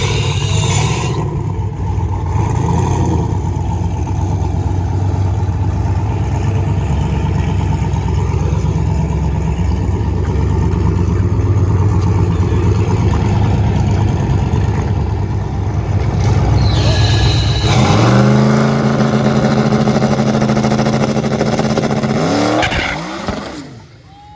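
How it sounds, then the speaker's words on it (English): A drag racing car revs and launches down a drag strip, its engine roaring loud and steady for most of the run, then rising through gear changes with tire squeal before cutting off near the end. "See what his first pass down the drag strip is all about."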